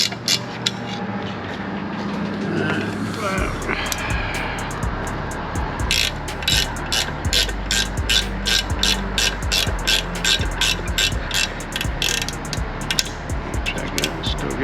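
Wrench ratcheting on a bolt of a Mercury 200hp outboard lower unit, a steady run of quick repeated clicks following a few louder knocks, close and fairly loud over a low background.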